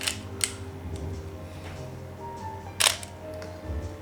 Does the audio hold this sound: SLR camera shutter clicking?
yes